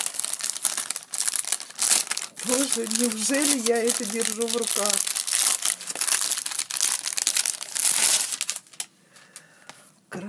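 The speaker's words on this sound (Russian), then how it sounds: "Вот так вот упаковано еще такой целлофановый пакетик" Cellophane packaging on a KnitPro Ginger Deluxe knitting needle set crinkles and rustles in bursts up close while someone speaks excitedly over the handling noise.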